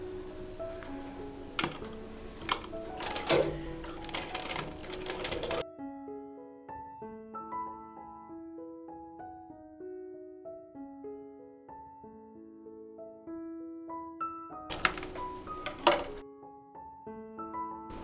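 A sewing machine stitches the sleeve joint of a child's fatua in short bursts of rapid mechanical clatter, running at the start and again near the end, with quiet tonal background sound between.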